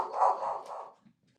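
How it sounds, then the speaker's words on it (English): A dog barks once in the distance inside a house, a muffled, mid-pitched yelp that fades out within a second. "let me go see what she's barking about"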